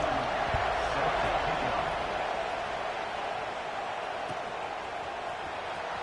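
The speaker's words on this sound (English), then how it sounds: "this crowd is buzzing after that last score" Football stadium crowd buzzing after a score, a broad continuous roar of many voices, steady and loud across the whole stretch, with speech faintly mixed in.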